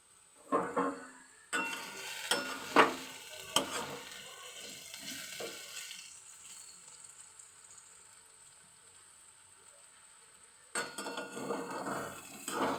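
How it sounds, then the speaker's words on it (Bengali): Potatoes fry in a pan with soft sizzling, broken by several sharp scrapes and clinks of stirring near the start, then a quieter stretch, and stirring again near the end. "আলু ভাজা হচ্ছে"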